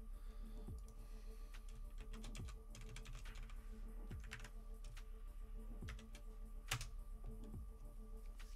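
Typing on a computer keyboard, close and fairly quiet, with irregular bursts of key clicks and a few sharper single taps over a low steady hum.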